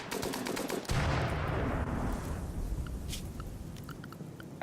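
Dense, rapid gunfire from colonists shooting together in the video game Rimworld, loud and continuous at first, then gradually thinning out toward the end.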